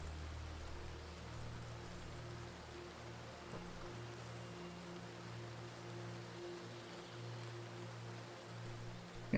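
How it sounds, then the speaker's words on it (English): Steady rain sound played back on a stream, a continuous soft hiss of falling drops with a low hum underneath, faint and unchanging throughout. "I've got rain sounds open on YouTube."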